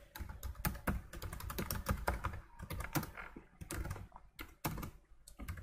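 Steady, close keystrokes on a computer keyboard as code is typed, a dense, irregular patter of clicks with a few brief pauses and no voices.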